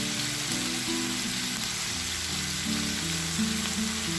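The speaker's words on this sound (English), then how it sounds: "You add a little bit of oil into your pan before you get started" Oil sizzling in a frying pan, a steady close crackle and hiss that holds evenly throughout, with faint music playing underneath.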